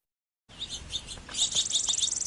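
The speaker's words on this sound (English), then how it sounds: "They are chirping so sweetly." Small birds chirp in quick high-pitched bursts after a moment of silence, growing livelier and more continuous toward the end.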